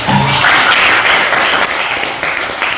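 Classroom applause at a vocational school, a dense burst of many hands clapping together, loud and close, lasting under three seconds before starting to thin out.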